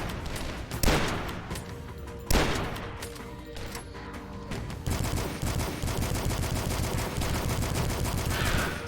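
Gunfire from weapons in the retro shooter video game Dusk: a couple of sharp single shots, then a rapid continuous burst of automatic fire over game ambience.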